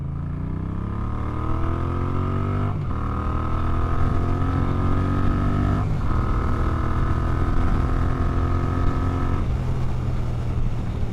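A Moto Guzzi V7 III Rough motorcycle runs at a steady engine drone that rises in pitch, cuts briefly at each gear change, and repeats through several shifts, heard close while riding without talking.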